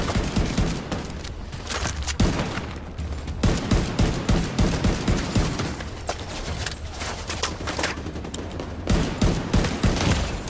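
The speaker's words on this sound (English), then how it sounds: "shooting at random targets." Sustained gunfire from the video game Tom Clancy's The Division 2, dense rapid bursts and overlapping shots that rise and pause in waves, loud and close throughout a chaotic firefight.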